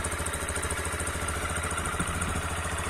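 A Yamaha Lander 250 motorcycle with 110,000 km on it idles steadily, a low, even engine rumble with a faint mechanical clatter. It is fairly close and continuous, with no talk.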